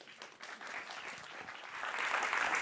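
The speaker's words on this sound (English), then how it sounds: "So please give an applause for Gisela Rossi." Audience applause fills a room at a Python programming conference talk, a steady dense clapping that swells and grows louder toward the end, with no voices over it.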